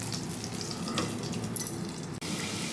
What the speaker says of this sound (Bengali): এইদিকে আমি মাছ একটু ভালো করে কড়া করে ভেজে নিচ্ছি।